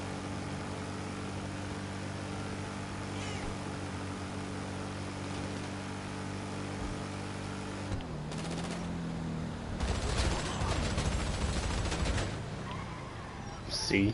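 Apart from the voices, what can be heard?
SMG Mark II gunfire in Grand Theft Auto 5 video game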